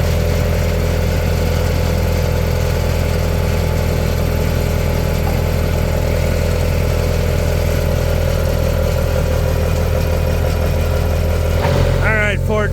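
A Ford tractor engine runs loud and steady while pulling an old Pontiac on a cold abandoned farm, with a constant rumbling drone throughout and a brief rise near the end.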